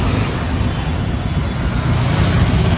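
A loud, continuous rumbling roar of a train passing very close at a railway crossing, steady throughout with no pauses.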